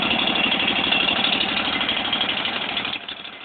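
A Scag belt-drive walk-behind lawn mower engine runs steadily at a loud, even idle with a fast pulsing throb, easing slightly quieter near the end; no voices.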